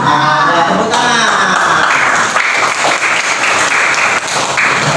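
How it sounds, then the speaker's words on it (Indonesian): Sustained applause from a group of students filling a classroom during a teaching session on Friday prayer, steady and dense throughout, with a few voices mixed in. "Ya, tepuk tangan."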